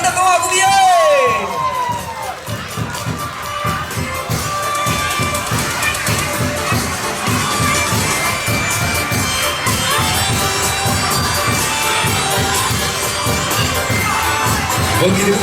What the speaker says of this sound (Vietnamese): Chúng ta hãy dành một tràng pháo tay thật to